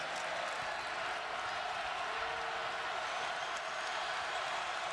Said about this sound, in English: the crowd on its feet here at Gamble Pavilion